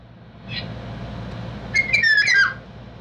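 An electronic bird-call device plays a short chirp, then a louder whistled bird call with sliding, warbling notes, over a steady low hum.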